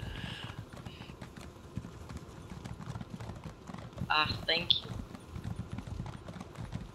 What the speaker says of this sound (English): some of us has a bit of a slow horse